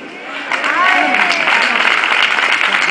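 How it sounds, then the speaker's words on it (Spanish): Applause rises from the crowd at a carnival proclamation, a loud, dense wash of clapping that swells within the first second and holds steady, with voices audible beneath it. "Yo quiero mandar un fuerte aplauso muy cariñoso para mi amigo"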